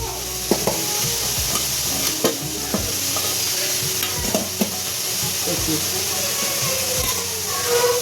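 A pan on the stove in a village home kitchen where fish curry and fried dishes are being made: a continuous close sizzle with repeated scraping and knocking as a utensil stirs, and voices talking nearby.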